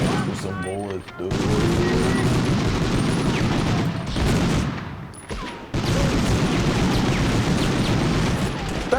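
Sustained gunfire fills a Medal of Honor battle, with heavy bursts of shots and booming blasts that drop out briefly and then resume. Speech sits underneath.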